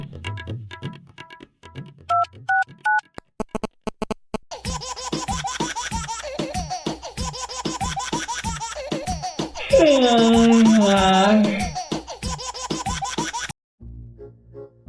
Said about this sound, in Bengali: দাঁড়াও, দেখছি ফোন করে।